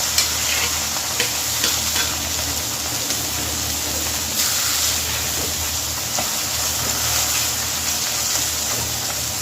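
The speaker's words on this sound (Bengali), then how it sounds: "সব মাছ একসাথে দিলাম না এখানে তিন পিস মাছ আছে দুইবারে ভাজতে হবে" Pieces of pabda fish fry in oil seasoned with salt and a little turmeric, making a steady, close sizzle dotted with small pops and ticks that runs evenly for the whole stretch, with no voices.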